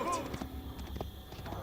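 Horse hooves gallop in the medieval strategy game Age of Empires 4 during a Rus battle mission, a loose run of muffled thuds under game voices and background battle noise.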